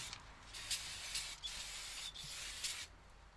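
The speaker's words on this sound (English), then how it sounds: "Clean everything up with your brake cleaner" Brake cleaner sprays onto the brake parts of a 2011 Honda Fit in several short, close hissing bursts broken by brief pauses, with a quiet rub and clatter in between.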